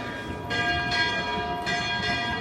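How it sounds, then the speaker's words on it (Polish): Church bells in Spain strike noon, ringing steadily with sustained, overlapping tones, fairly loud and continuous, swelling in periodic strikes against a faint background hum. "Więc mamy 12, bo dzwony biły."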